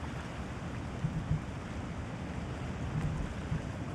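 Strong wind at sea aboard a sailing boat, a constant broadband rush with low buffeting gusts and faint water wash, loud and unbroken.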